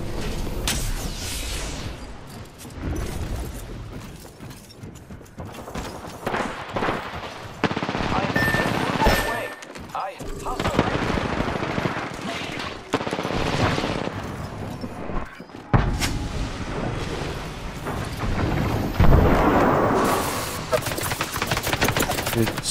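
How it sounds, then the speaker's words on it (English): Rapid automatic weapon fire in the battle royale game Apex Legends: dense, sustained bursts of shooting with repeated impacts and booms, nearly continuous and loud across the whole stretch, with occasional brief gaps. "Stop shooting at me."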